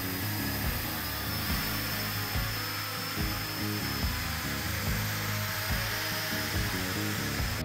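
An electric drill spins steadily, driving an aluminium rod wrapped in wire wool inside a rusty shotgun barrel, with a constant loud whirring drone and faint scraping throughout, no talk.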